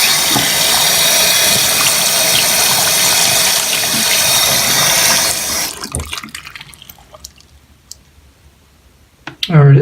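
An ultrasonic cleaner runs submerged in water to clean a clogged sink faucet aerator. It gives a loud, steady hiss-like buzz for about six seconds, then cuts off, leaving quieter clicks and faint water movement.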